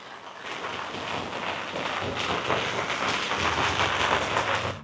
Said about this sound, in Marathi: मुंबईत सुंदर असा पाऊस पडत आहे